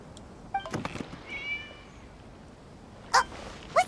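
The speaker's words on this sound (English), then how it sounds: "It was just a cat." A cat in the video game Genshin Impact meows several times, short faint calls followed by two sharper, louder meows near the end against a quiet ambient background.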